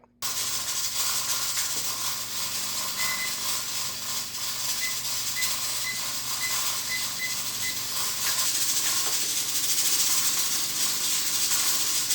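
A pressure cooker boiling wort gives a steady, fairly quiet hiss of escaping steam throughout, with a faint intermittent beeping partway through.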